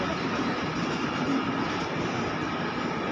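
The Tejas Rajdhani Express, the Agartala to Anand Vihar Terminal service, at Malda Town station, a constant broad rumble of rolling coaches, even and fairly loud, with no voices.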